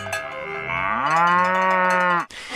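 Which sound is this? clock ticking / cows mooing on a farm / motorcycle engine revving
cows mooing on a farm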